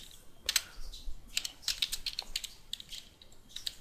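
Rapid, close keystrokes clatter on a computer keyboard as C# code is typed, in uneven bursts of clicks with brief pauses.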